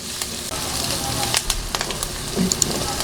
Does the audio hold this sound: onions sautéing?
yes